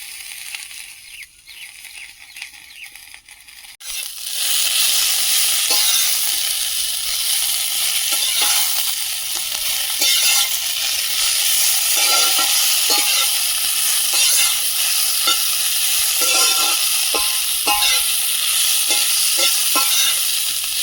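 Thankuni (Indian pennywort) leaves hit hot oil in a pan with a pinch of turmeric, bursting into a loud, steady sizzle after a few quiet seconds, with occasional stirring clicks and scrapes throughout.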